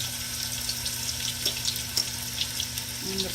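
Chicken sears in a hot pot for brown stew chicken, giving a steady close sizzle with faint crackles and pops throughout.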